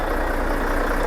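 A lorry engine idles, a steady, loud, unbroken mechanical rumble with a broad hiss, heard alone without talk.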